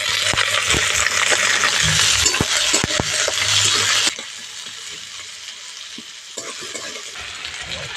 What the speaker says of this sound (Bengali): পেঁয়াজ কুচিটা দিয়ে দিচ্ছি পেঁয়াজ বিনস আলুটা দিয়ে দেবো